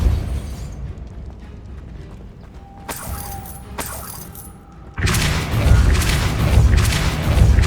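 The Depulso force spell is cast in Hogwarts Legacy. Quiet, muffled game ambience with a couple of brief sharp accents gives way to a sudden loud booming burst that rumbles on to the end.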